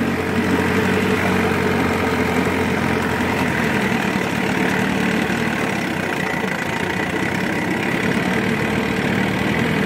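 A Gamefisher 15hp outboard boat motor idles at trolling speed with a steady, close, throbbing rumble and mechanical knock. It holds the same even pitch the whole time, and no voices can be heard.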